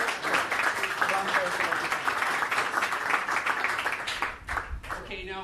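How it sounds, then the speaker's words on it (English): An awards-night audience breaks into loud, sustained applause and cheering. The dense clapping continues steadily for several seconds before thinning out near the end. "So, guys, if we could give a big cheer to both John and Christian"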